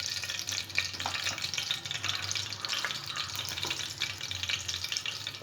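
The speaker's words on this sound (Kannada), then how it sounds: "ಎಣ್ಣೆ ಈಗ ಚಟಪಟ ಅಂತ ಸೌಂಡ್ ಬರ್ತಾಯಿದೆ" Hot oil heating in a pan before mustard seeds and cumin go in crackles and spits in a dense, continuous sizzle, close and fairly loud, with no talking.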